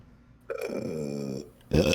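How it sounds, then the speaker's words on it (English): A single long, loud, drawn-out human burp with a rough, grunting tone, rising after a quiet start, followed by a short, loud voiced sound at the end. "I'm glad you burped first"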